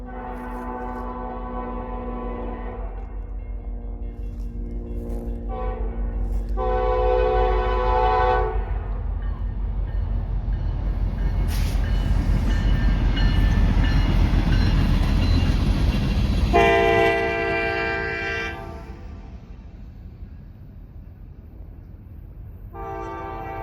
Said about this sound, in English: there go the gates for the CSX train